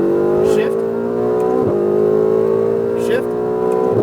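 A sports car accelerates hard on a race track, its engine note climbing in steady pulls broken by several quick upshifts. A loud, close cabin sound plays under an instructor's voice.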